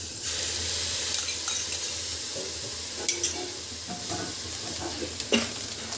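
Yogurt is stirred into sizzling vegetables in a pan for veg biryani. A steady close-up frying hiss runs throughout, broken by a few sharp clinks of a spoon against the pan.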